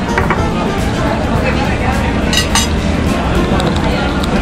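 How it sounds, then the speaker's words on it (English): Gambas (shrimp) sizzle in a hot pan at a lunch counter in Mercado Little Spain, New York City, giving a steady, dense hiss with light clinks of dishes and cutlery amid a busy room's chatter. "Wow, those are still sizzling. Gambas."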